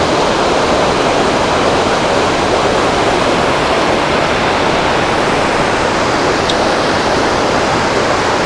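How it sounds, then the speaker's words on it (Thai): Strong stream water rushes at a river fishing spot, a loud, steady, close broadband roar that never breaks, with no voices. "น้ำค่อนข้างแรงอยู่นะ"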